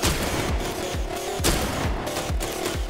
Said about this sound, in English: Stupid video game shotguns.